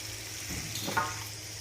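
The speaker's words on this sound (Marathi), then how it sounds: "मी आता ही स्वच्छ ही तांदुक्याची भाजी धुवून घेणार आहे तर आपण अगदी एक दोन पाण्याने ही भाजी धुवून घेते" Tandulja leafy greens being rinsed in water, with a brief, faint splash and swish about a second in over a quiet background.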